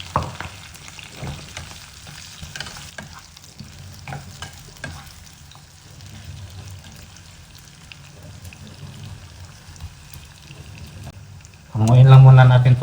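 Eggplant frying in oil gives a continuous soft sizzle with occasional stirring clatter, steady and close, before a louder burst of noise near the end, with a voice speaking in the background.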